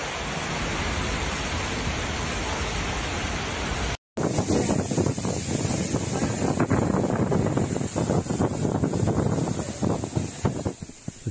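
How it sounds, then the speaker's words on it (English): Strong storm wind in Rosario, Argentina, roars against the microphone in a dense, rushing wash, then after a brief dropout continues gusting with rain-like hiss and crackle. "A shocking storm with wind and rain erupted in Rosario."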